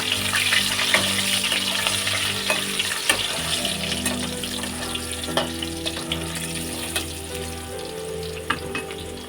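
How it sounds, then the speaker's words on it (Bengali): Potatoes fry in oil with salt and turmeric for a home-style chicken curry, giving a continuous close sizzle with scattered spatula scrapes and stirring clatter. "এবারে আলুগুলো আমি ভালো করে লাল করে ভেজে নেব"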